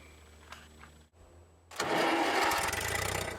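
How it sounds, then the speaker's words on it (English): Old engine-driven welder, idle for fifteen years, cranks briefly, goes quiet, then fires and runs with a loud, steady mid-pitched engine drone close by. "So this old welder hasn't run for 15 years."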